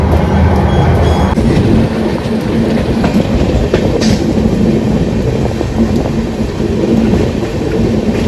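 The Lalgarh Express, heard from inside an S3 sleeper coach between Mathura and Jaipur, rumbles loudly and continuously along the tracks with steady rattling and clattering wheel noise.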